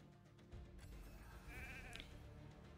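Sheep bleat from the Raid Shadow Legends video game, a wavering cartoonish cry rising over busy game music and effects, mid-loud and brief.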